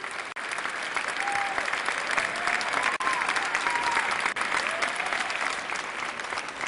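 Strong, sustained applause from an audience at an award ceremony in Vienna, a dense wash of many hands clapping steadily at moderate distance throughout.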